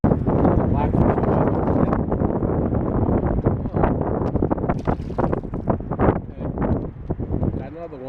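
Strong wind buffets the microphone on a small fishing boat out blackfishing (tautog) on a rough day, a steady loud roar with gusts, while people talk intermittently underneath.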